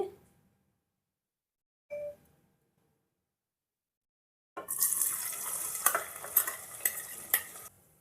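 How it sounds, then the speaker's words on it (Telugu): Onions fry in oil in a pan for boti curry, a bright sizzle with stirring clacks starting midway after a mostly quiet opening with two brief small sounds. "ముందుగా నూనె వేసుకుందామండి. ఇప్పుడు ఉల్లిగడ్డలు వేసేసుకుందామండి."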